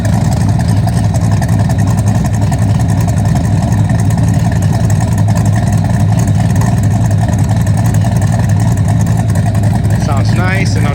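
A budget V8 swapped into a Mazda Miata idles with a loud, steady low rumble and constant throb, close up and unbroken for the whole stretch, with a faint bit of voice near the end.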